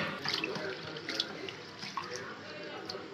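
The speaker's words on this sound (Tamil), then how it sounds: "அதையும் சேர்த்து கழுவிடலாம் அரிசி கூடயே" Rice and roasted moong dal are washed in water for a red rice payasam: a steady wet swish and trickle of water with small splashes and clinks runs throughout at moderate loudness.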